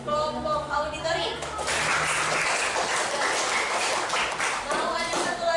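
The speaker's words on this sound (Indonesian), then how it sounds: "Tepuk tangan untuk kelompok auditori" Students in a classroom clap for a presenting group, a loud dense round of applause that builds after a moment and keeps going steadily.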